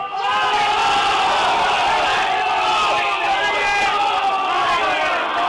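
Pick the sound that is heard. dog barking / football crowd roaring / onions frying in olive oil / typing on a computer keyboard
football crowd roaring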